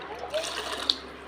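Water splashes and trickles into a pot close by, a soft, short pour with a small clink.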